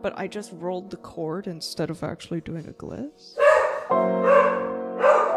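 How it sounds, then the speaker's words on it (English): A dog barks loudly nearby in a room where someone is talking and playing piano. Speech fills the first part, and then three strong barks follow in quick succession. "Sorry about the dog."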